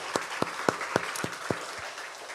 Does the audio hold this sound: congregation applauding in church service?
yes